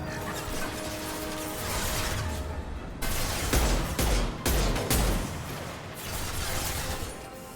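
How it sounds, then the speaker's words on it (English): A Mass Effect 2 impact shot fires amid a battle, with several sharp, heavy bursts from about three seconds on, layered over dense mechanical clatter and steady combat noise. "Firing an impact shot!"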